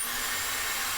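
A loud, steady whoosh of a hair dryer running off a Baseus 420W power station, constant and close, with no talking.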